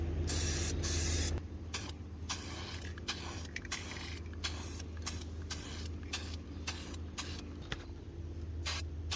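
Semi-gloss black Rust-Oleum spray paint hisses out of a can in repeated short bursts, with one longer spray at the start followed by a quick rhythmic series of brief sprays, close and fairly loud, with no talking.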